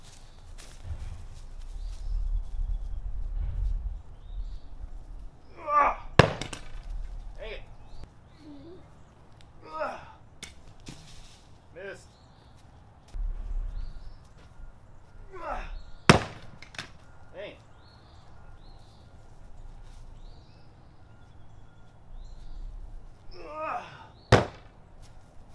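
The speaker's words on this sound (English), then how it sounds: "I've actually never thrown a full-size axe before, so I have no idea." A heavy, full-size axe is thrown at a target in a workshop, landing with a few sharp, loud thunks spread far apart, with someone talking in between.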